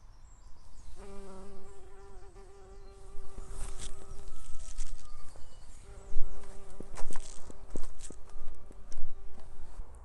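Bees hum close by in wavering tones around flowers in a garden, buzzing drifting in and out over soft outdoor rustling and occasional knocks.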